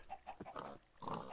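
Pigs in a block-building video game give a run of short grunting oinks, several in quick succession at moderate level, with no speech over them.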